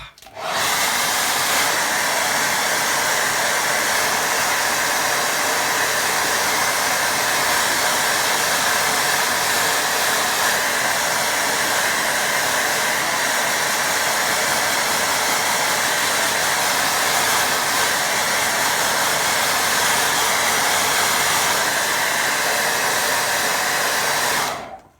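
Hair dryer blowing over a watercolour painting of a stream, a steady loud whooshing hum running unbroken for about twenty-five seconds, starting and stopping abruptly, with no talk.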